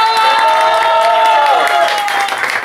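A talent-show crowd applauds and cheers for the second female contestant: steady, loud clapping with crowd noise and a held tonal voice or music line running across most of the moment.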